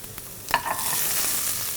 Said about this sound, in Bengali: আলুটাও আমরা ভেজে ফেললাম